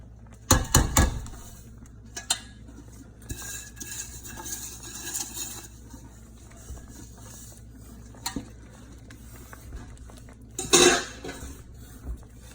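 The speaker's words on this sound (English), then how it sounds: "I'll go back to the stirring here once I get it in" Homemade strawberry jam is stirred in a pot, with a spoon scraping and clinking against the metal in irregular bursts, loud clatters near the start and again toward the end, between quieter stretches.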